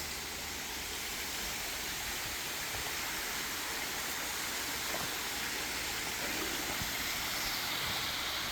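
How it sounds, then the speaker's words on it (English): Waterfall at Pleasant Ridge Falls seen from a small overlook, a steady, full rushing roar of falling water that holds even and unbroken throughout, with no voices. "There's the waterfalls."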